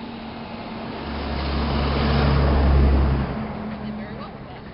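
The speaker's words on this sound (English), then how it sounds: "Now we have a big truck coming by that may startle him" A big truck drives past on a road, its deep rumble swelling loudly over a couple of seconds and then fading away, with faint traffic hum around it.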